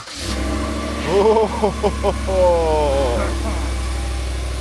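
A car engine cranks and turns over, then settles into a steady low idle, close by. A voice and a few other sounds play over the hum.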